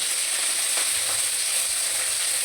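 Curry leaves sizzle steadily in hot oil during home cooking for sambar, a loud, even hiss and crackle with no voices.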